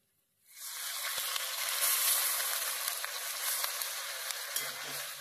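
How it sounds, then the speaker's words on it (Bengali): Plain cold water poured into a pan of potatoes frying with onion, garlic and spices sets off a sudden loud, sustained hissing sizzle that holds steady for several seconds. "এমনি জলই দিচ্ছি, পরিমাণ মতো জল দিচ্ছি"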